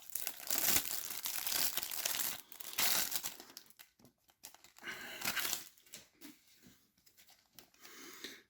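A trading card booster box is unwrapped, with close, loud plastic crinkling and tearing in bursts, then quieter rustling with short pauses.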